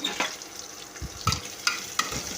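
Onions sizzle in a hot pan, being fried for sambar in a pressure cooker, while a spoon scrapes and stirs in a few quick strokes, with no talking.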